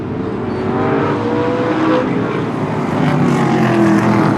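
Short-track race cars circle the track during warm-up laps, a loud, continuous engine roar holding steady, with faint commentary underneath.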